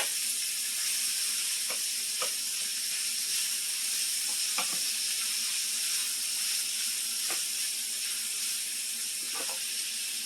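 Food frying in a pan with oil and salt, a steady bright hiss and sizzle with scattered small pops and crackles throughout, close and even in level, with no talk.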